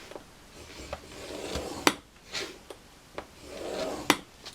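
A scoring tool drawn along 12x12 craft paper makes a series of short, dry scraping strokes, about a half-dozen sharp rasps with quieter rubbing between, close and alone.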